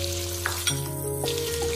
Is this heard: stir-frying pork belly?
yes